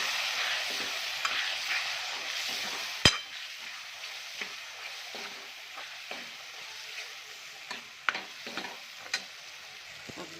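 Vajdi masala with onion and tomato being sautéed in a pan: a steady low sizzle with scattered soft scrapes and one sharp clink of the spoon against the pan, close and fairly quiet, with no talking.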